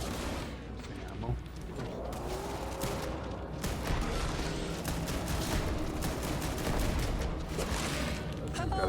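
Sustained video game weapon fire, dense rapid shots blending into a continuous loud clatter for several seconds with booms mixed in.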